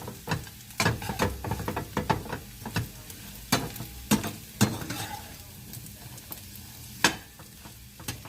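Smothered potatoes fry in a pan with a steady close sizzle, punctuated by repeated scraping and clattering knocks as a utensil stirs and flips them.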